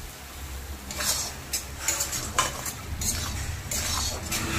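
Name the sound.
stirring spices with chili powder in a pan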